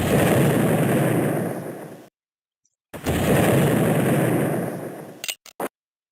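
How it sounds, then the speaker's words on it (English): Artillery fire from the game Civil War Generals 2: two sustained stretches of dense, rumbling cannon barrage separated by a sudden silence, ending with a few sharp isolated bursts. "hitting them with our artillery"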